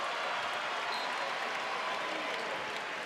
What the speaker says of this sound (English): and an applause from the crowd.